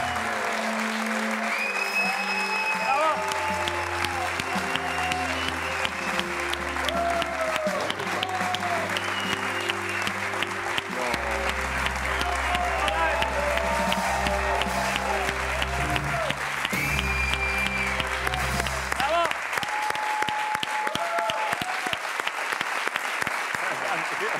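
A studio audience on a late-night talk show applauds and cheers a music artist. The clapping is loud and sustained, with music playing underneath, and voices are heard over the applause.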